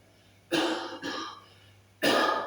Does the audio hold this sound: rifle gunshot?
no